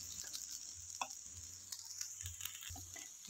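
Nasi goreng fried with garlic, shallots, oyster sauce and sweet soy sauce sizzling steadily in a pan, a close, continuous crackle with light clicks of stirring and no talking.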